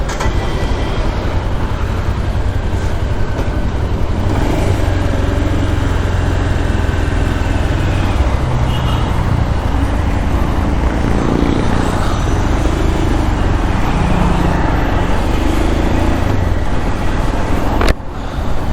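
A Royal Enfield Scram 440 motorcycle being ridden, its engine droning loud and continuous with heavy wind rush over the microphone and a brief sharp knock near the end.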